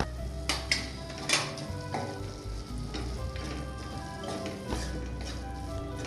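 Mushroom pepper masala sautéing in a pan with turmeric, coriander powder, cumin powder and pepper, a steady close sizzle and frying hiss broken by several sharp spoon-on-pan clacks and stirring scrapes, with no talking.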